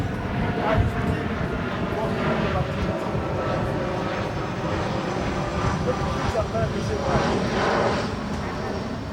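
A propeller airplane drones steadily overhead outdoors, a loud continuous engine roar that fills the whole stretch with a person talking over it.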